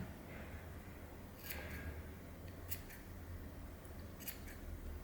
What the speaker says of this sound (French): Et on va couper les boucles.